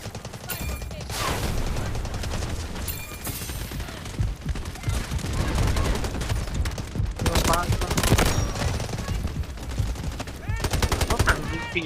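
Sustained automatic gunfire and bursts of shooting in the mobile military shooter game Delta Force Mobile, loud and continuous throughout, with a voice talking briefly amid the firing.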